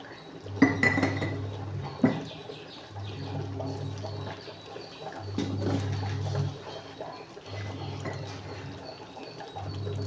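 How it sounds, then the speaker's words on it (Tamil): A ladle clinks and scrapes around a pot of curry in a few distinct strokes, with a low steady hum between them and faint birdsong somewhere in the background. "ஒரே ஒரு கிண்டு மட்டும் கிண்டிட்டு இறக்கி அந்த பக்கம் வச்சிடலாம்"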